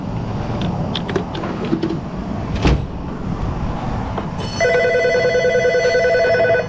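A steady electronic phone ringtone of bright repeating tones starts partway through, loud over background auto repair shop noise, after a stretch of low rumble and clatter.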